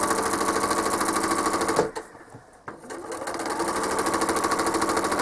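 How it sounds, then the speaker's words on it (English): A sewing machine stitches around a circle on a quilt with a loud, fast, steady motor hum and needle rattle. It stops briefly near the middle, then runs on again at full speed. "I can now stitch around that."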